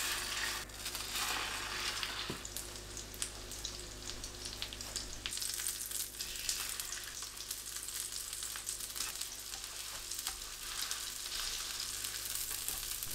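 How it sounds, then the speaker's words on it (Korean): Egg-coated beef and aged kimchi skewers pan-fry in cooking oil over medium-low heat, making a steady, close sizzle with faint crackles throughout and no voices. "팬에 올려 노릇하게 구워내면"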